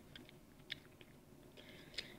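Soft, close chewing of slushy gum: a few faint wet clicks and smacks spread across a couple of seconds, with no talk.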